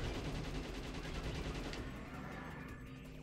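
A gun firing continuously in the Shadow the Hedgehog video game, a dense rapid-fire rattle of shots that holds steady and loud, then eases slightly toward the end.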